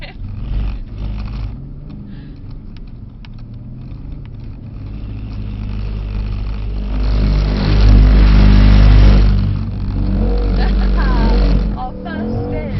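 A Mercedes car engine revving during a spin at a Mercedes event, building into a loud sustained roar that peaks and then eases, heard from inside with people talking over it.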